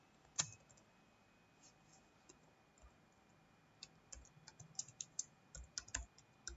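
Computer keyboard typing in a Notepad program, close and quiet: an isolated keystroke, a pause, then a run of irregular key taps that speeds up toward the end, with no voice.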